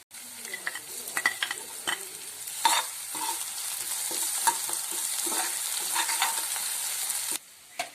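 Ginger garlic paste and small-cut chillies sizzle in hot oil in a pan for a fish curry, a steady close frying hiss broken by stirring scrapes, stopping abruptly just before the end.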